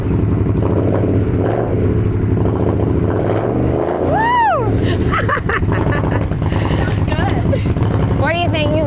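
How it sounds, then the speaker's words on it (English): A custom Indian Scout motorcycle fires up and revs, its engine rumble swelling into a sharp rising rev midway before settling to a throaty idle, with excited voices talking and cheering nearby. "Let's go ahead and fire this thing up."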